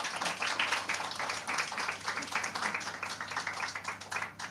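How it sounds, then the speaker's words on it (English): A conference session audience applauds its presenters in a hall in Pattaya, with dense, steady clapping from many hands that holds evenly for several seconds before easing slightly. "a round of applause for all the presenters"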